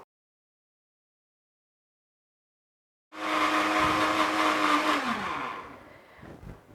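A blender grinding cucumber paste kicks in abruptly after three seconds of silence, whirring loudly and steadily with a dense motor whine, then slows and winds down near the end.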